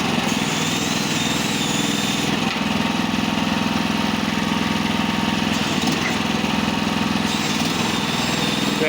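Trailer-mounted logging crane with a 10,000 rating, its engine running steadily and loud throughout while the boom lifts, a continuous droning rumble with a shift in tone partway through, no voices.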